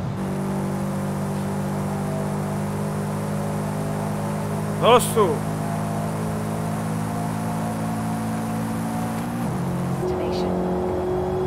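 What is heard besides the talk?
another Subaru car engine in Forza Horizon 5 video game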